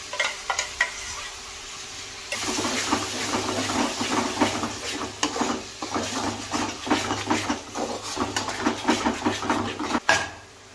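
Small onion paste frying in a pot for chicken biryani, a steady sizzle and hiss with scraping stirs, close and continuous after a quieter start.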